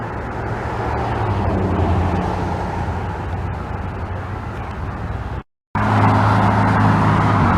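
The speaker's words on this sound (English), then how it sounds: "all this traffic here." Steady, loud roar of road traffic passing close by a Florida walking path, continuous rumble of cars with a brief sudden cutout before it resumes.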